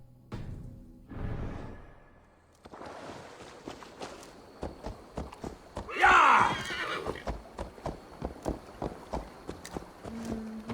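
A horse in the Assassin's Creed Valhalla video game gives a loud whinny midway. Its hooves clip-clop in a steady rhythmic walk before and after, with a soft whoosh near the start.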